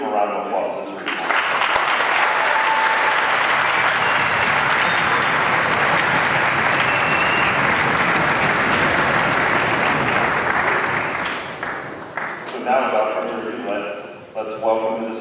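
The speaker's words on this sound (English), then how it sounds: "So let's give them a round of applause." An audience at a string orchestra concert applauds for student players, a dense sustained clapping that fades after about eleven seconds into scattered claps and a few voices.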